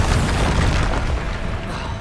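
A Bombarda explosion spell booms in Hogwarts Legacy, a loud, dense blast that rumbles and fades over a couple of seconds with no talking.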